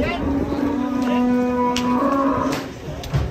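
Large cattle being unloaded from a truck to be weighed give a long, loud, close moo with clear tonal layers, over some background clatter.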